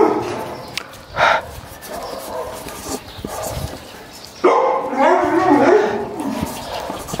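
A dog barks and yips nearby outdoors on a sunny day, with short whimpering, whining calls rising toward the end. A person speaks between and over the sounds.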